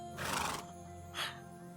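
A horse in an animated cartoon neighs twice, a long bright whinny followed by a shorter one, close and clear over a faint background hum.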